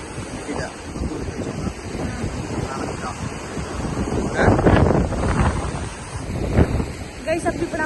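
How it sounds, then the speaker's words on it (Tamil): Ocean waves crash and wash up at Auroville beach in Pondicherry, rolling surges swelling and fading under heavy gusts of wind buffeting the microphone. "ஆக்சுவலி ரொம்ப அலை அடிக்குது கைஸ்."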